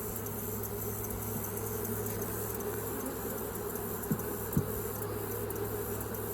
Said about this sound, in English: This box is still full of bees.